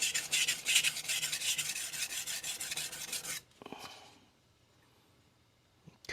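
A Shirogami carbon steel TOSA santoku, 165 mm, is rubbed back and forth on a Shapton Rockstar 320 grit whetstone in fast, steady rasping strokes that stop abruptly, followed by a few faint scrapes and near silence.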